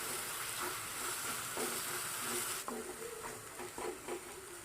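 Fish pieces for a fish fry gravy curry sizzle and hiss steadily in a hot pan, a continuous close frying crackle with faint stirring clinks, no voices.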